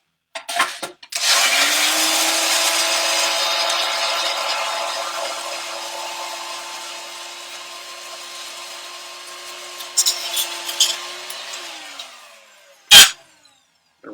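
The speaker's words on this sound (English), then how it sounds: "this goes on the spindle blender" A spindle blender runs for about ten seconds while mixing a cocktail. It whirs steadily and loudly between short clicks at the start and end, followed by a sharp clack.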